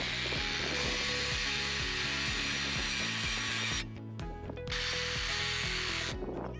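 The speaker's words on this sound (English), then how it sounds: "And we're going to cut that with the Sawzall." A Sawzall reciprocating saw cuts through a metal snow retention bar with a loud, close, buzzing rapid stroke and brief drops in intensity, then resumes cutting steadily.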